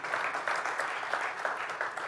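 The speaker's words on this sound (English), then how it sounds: "Yes, you can clap." A conference audience at a software engineering talk gives a brief, moderate round of clapping, a soft and steady patter of hands lasting only a couple of seconds.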